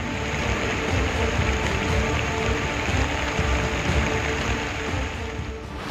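Heavy monsoon rain pours at a flooded railway station in Mumbai, with tracks underwater, a loud, steady wash of falling water and splashing that holds constant throughout.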